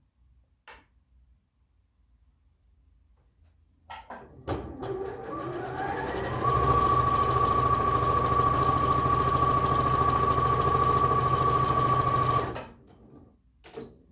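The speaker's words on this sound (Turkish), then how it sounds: "Diğer tarafımı da dikiyorum aynı şekilde." A sewing machine stitching the seam of a tunic dress, starting after a few quiet seconds and running at a fast, steady whir for about eight seconds before stopping; a voice speaks briefly.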